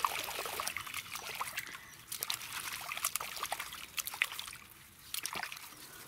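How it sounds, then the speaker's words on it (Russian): Fresh Fitosporin solution poured into a bucket outdoors in a village garden, a soft irregular trickle and splash of liquid heard close and faint, with a few small clicks and knocks between the pours. "Раствор с фитоспорином в ведре я периодически сейчас буду менять, свежий наливать"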